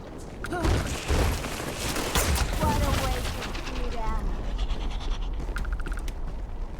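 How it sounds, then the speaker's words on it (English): Phaser rifle and phaser pistol fire from the Starfleet arsenal in the Starfield game, repeated zapping energy shots in quick bursts mixed with game effects and a voice talking over them. "I also had a chance to test out some of the weaponry I had acquired, like the Starfleet phaser rifle and a phaser pistol"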